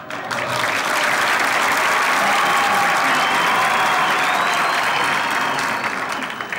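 Men in a studio audience clapping hard at a Women's Day tribute, a loud, dense, sustained burst of applause that swells and holds with no talk over it.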